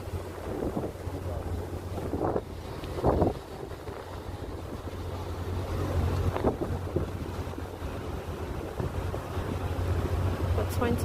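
A boat sails across Lake Como, its motor droning low and steady beneath gusty wind buffeting the microphone, with a few brief knocks and splashes and faint background voices.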